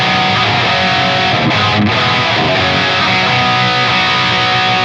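Distorted electric guitar played through an IR-J pedal loaded with a black back impulse response, with a touch of reverb from a Quad Cortex, a dense, loud, continuous wall of tone for several seconds.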